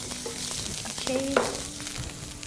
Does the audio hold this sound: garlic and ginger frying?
yes